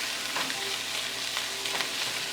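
A vegetable omelette with tomatoes frying in a small pan makes a steady, even sizzle with a few light utensil scrapes, close and moderately quiet, and no talking.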